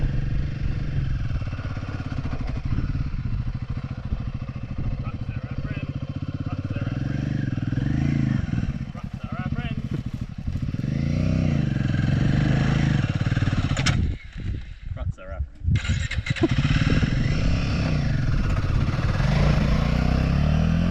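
Motorcycle engine running steadily at close range as the bike is ridden and recovered on a rough track between Banksia Camp and Waychinicup Inlet, with brief dips and clatter midway and voices partly under the engine.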